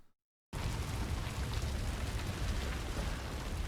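Rain in the action RPG No Rest for the Wicked, a dense, steady downpour pattering loudly and evenly after a brief moment of silence at the start.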